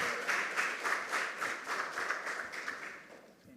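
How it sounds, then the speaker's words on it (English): Audience applause at a junior secondary school quiz competition, a steady burst of clapping from a crowd that holds for about three seconds and then fades slightly. "A round of applause for him."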